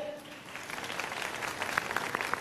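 Faint applause on a TV show, a soft patter of clapping rising gradually under a low-level voice.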